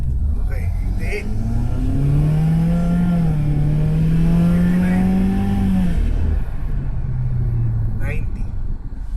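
A 2019 Subaru Forester engine pulls steadily under acceleration while driving, its tone climbing through a long sustained rise before easing off. The engine stays loud and close, with someone talking over it.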